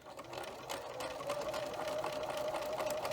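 A sewing machine runs steadily and close up, stitching through a folded scrap of fabric used as a quilting ender, with an even whirring hum and a rapid needle rhythm throughout.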